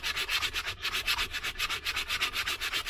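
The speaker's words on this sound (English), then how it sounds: "Still a heavier grit sandpaper, but we'll switch to a lighter" Heavier-grit sandpaper rubs over a hand-carved wooden fork in light, quick strokes, a soft, even, rhythmic scratching up close with no voices.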